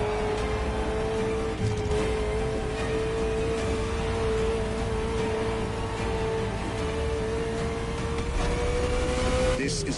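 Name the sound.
Ferrari sports car engine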